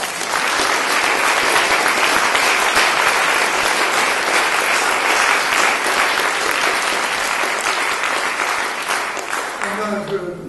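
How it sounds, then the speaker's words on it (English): A large audience applauds loudly and continuously, a dense even roar of clapping that holds steady before tapering slightly as a voice begins to speak at the end. "We must applaud them for what they've done with that."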